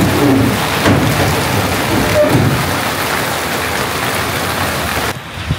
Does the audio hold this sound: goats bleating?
no